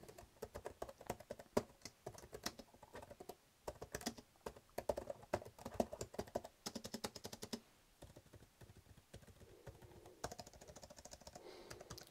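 Keys clatter on a Rii RK203 or RKM709 budget keyboard in quick, irregular bursts with short pauses, close and fairly crisp, with no voice over it.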